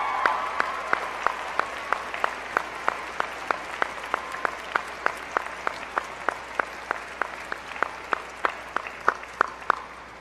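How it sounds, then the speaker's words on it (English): A graduation audience applauds at a high school ceremony, with a steady run of sharp, evenly spaced claps standing out close by over a continuous wash of clapping for about ten seconds. "So if we could please give them a round of applause."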